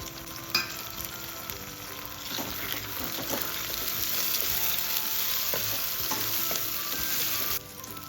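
Loud steady sizzling of onions and tomato sautéing in a pan, with occasional scraping and stirring taps, close by and no talking.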